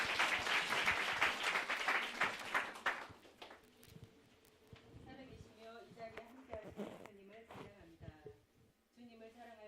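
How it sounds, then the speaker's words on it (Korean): Congregation applause at a Sunday church service, loud and dense for about three seconds, then fading out as a voice speaks and quieter sounds follow. "여러분 박수 한번 쳐드리세요."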